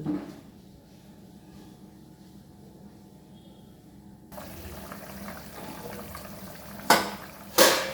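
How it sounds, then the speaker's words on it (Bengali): A pan of katla fish curry with potatoes comes to a soft, steady bubbling boil, faint and close, followed by a couple of sharp clinks of utensils near the end. "ফুটে গেছে"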